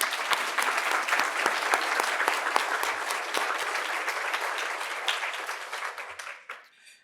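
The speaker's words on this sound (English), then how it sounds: "I ask you to please join me in giving a round of applause for our team." Sustained audience applause honoring Chicago Public Library staff, dense steady clapping from a large crowd that fades out toward the end.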